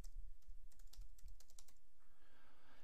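Rapid keystrokes on a computer keyboard as a subheading is typed into an article, coming in quick close-miked bursts with brief pauses and no voices.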